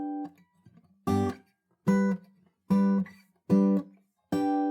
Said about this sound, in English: You should practice playing all 5 chords in sequence to begin with to become fully acquainted with each position